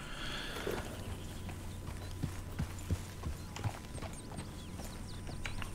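Horse hooves clip-clop in a few scattered taps as a horse is tied up in the Red Dead Redemption II video game, with steady low ambient game sound underneath.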